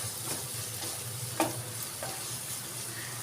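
Milk being stirred into kadhai paneer in a pan, a soft scraping and faint sizzle running steadily under low background noise, with one sharper clink midway.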